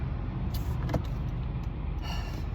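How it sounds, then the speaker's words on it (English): Road traffic passes in a brief, steady wash of car noise, with a few tire and motor swells close by. "this traffic, it's not too bad"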